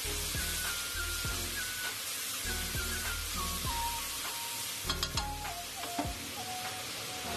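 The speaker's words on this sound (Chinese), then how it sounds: "翻炒均匀，" Vegetables stir-fried in a wok with soy sauce, salt, sugar and oyster sauce: a steady loud sizzle broken by repeated scraping stir strokes, close and without speech.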